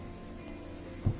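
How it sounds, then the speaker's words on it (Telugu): Heavy rain pouring steadily as a dense, even hiss close by, with a brief low thump near the end. "ఇంత వర్షంలో వెళ్ళడం అవసరమా?"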